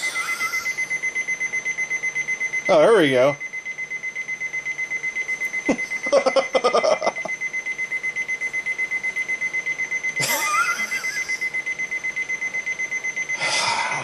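A cheap Walmart alarm clock at maximum volume beeps in a steady, fast electronic pulse that runs through the whole stretch, with short bursts of talk and handling noise breaking in.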